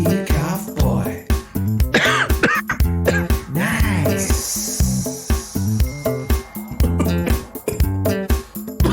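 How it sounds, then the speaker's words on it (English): A boy coughs repeatedly in loud, rough bursts close to the microphone, the coughs coming in an irregular string with a strained, throaty quality and short pauses between them. "Let's hear you cough, boy."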